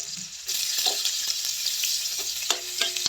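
Garlic, onion and ginger sautéing in a pan for ginisang tahong, giving a bright, steady sizzle with a few sharp clinks and scrapes of stirring, close up and without speech.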